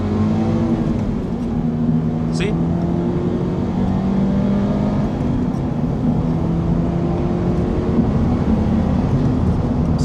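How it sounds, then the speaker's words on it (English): A Toyota GR86 engine revving with rev hang, the revs rising and lingering in a loud, continuous drone heard from inside the car, with one brief spoken word. "but the car has rev hang."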